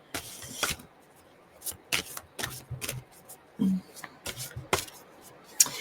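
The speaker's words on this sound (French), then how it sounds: "hop, je mets les 2 cartes du devant où il n'y a pas de message" Tarot cards are shuffled and laid down in a string of crisp riffles, slaps and soft scrapes in an irregular rhythm, close by and quiet between bursts, with brief speech at moments.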